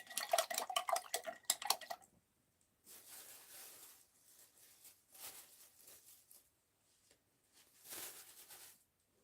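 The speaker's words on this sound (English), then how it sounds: "Gotta wash my knife off." Metal knife rinsed and clattering against dishes in a sink, a dense burst of clinking and scraping for about two seconds, then softer intermittent running-water splashes and rubbing, fairly close with no talk.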